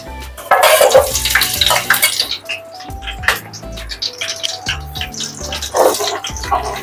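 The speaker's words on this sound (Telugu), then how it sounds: "ఆనియన్స్ అయితే ఇందులోకి వేసేసుకున్నాం." Sliced onions, green chilies and bay leaves fry in hot oil in a pot, giving a loud, steady close sizzle and crackle with faint tonal sounds behind it.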